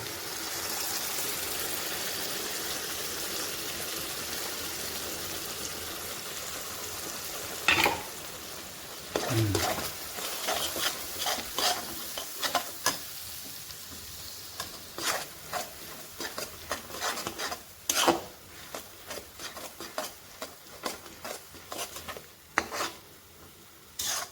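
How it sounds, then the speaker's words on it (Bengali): Spices frying in hot oil in a pan for a rohu fish curry: a steady close sizzle that turns into irregular crackles and scraping stir strokes, loud and continuous with no speech. "মশলাটা এখন ছেড়ে দেবো।"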